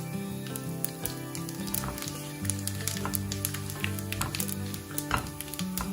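Chana dal, peanuts and cumin fry in hot oil with a steady crackling sizzle, layered under louder tonal sounds and occasional sharp pops.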